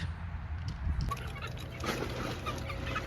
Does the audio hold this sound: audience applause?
no